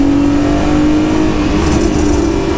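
A modified BMW E36's engine revs steadily while being driven, a loud continuous drone with a held pitch, close-up and with no speech over it.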